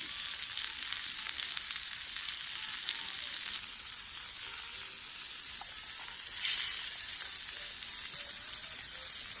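A burger fries on a camp stove at a wild campsite, giving a steady, close hiss and crackle of sizzling fat that swells slightly midway, with no voices over it.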